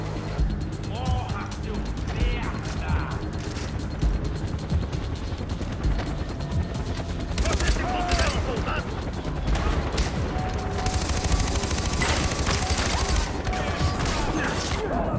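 Gunfire in the video game Far Cry 4 crackles in dense bursts and scattered shots amid clattering mechanisms and crashes, loud and continuous, with a voice talking over parts of it.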